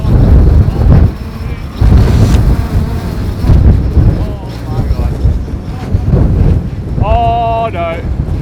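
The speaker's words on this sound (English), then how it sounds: "Holy shit, it is windy." Strong wind batters the microphone outdoors during a drone flight, a loud continuous low rumble with gusty surges, while a person shouts and talks over it and a brief high whine cuts in near the end.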